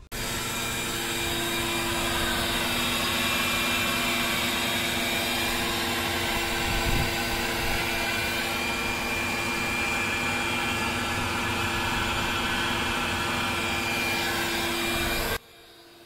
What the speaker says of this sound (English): I also added in some additional air using my modified vacuum cleaner